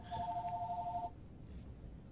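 A phone ringtone chirps as a quick two-tone electronic trill for about a second, then cuts off into quiet room noise.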